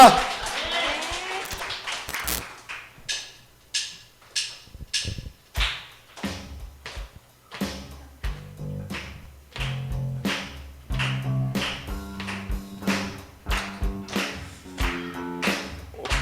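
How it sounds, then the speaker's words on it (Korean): Church congregation clapping in rhythmic unison, sharp, spaced claps with short gaps between them, and a faint voice or tone under some of the claps. "우리를 사랑하시고 구원하신 우리 하나님 앞에 영광의 박수 하겠습니다."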